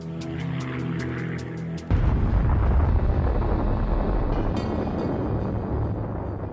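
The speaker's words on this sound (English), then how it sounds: "Nearby in POW Camp 17, Lester Tenney sees the explosion." The atomic bomb explosion over Nagasaki: a tonal musical passage is cut off by a sudden loud, deep roar that rumbles on steadily, with no speech.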